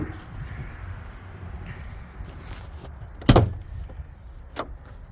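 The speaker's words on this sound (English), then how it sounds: "Open up the door." A van's rear cargo door is opened in one sharp, loud burst of latch clunk and rattle midway through, followed by a softer knock, over a low steady background rumble.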